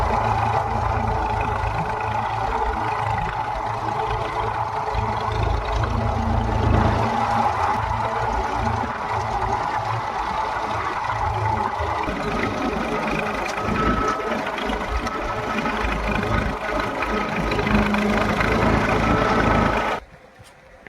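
A tractor engine runs in a groundnut field during sowing, giving a steady, close, chugging drone with a low mechanical rattle for about twenty seconds before it drops away abruptly at the end.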